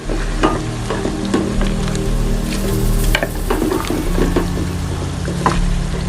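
Onions brown in a pan for chicken karahi, a loud, close, continuous sizzle with occasional stirring scrapes and no talking.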